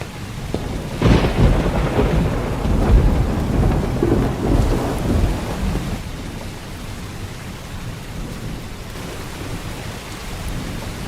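Heavy rain pours steadily while a deep roll of thunder rumbles through the first half, then the downpour continues alone.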